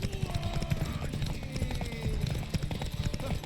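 Hooves clip-clop at a quick, steady rhythm as a horse gallops in The Witcher 3, with other game sounds and voices murmuring beneath the hoofbeats.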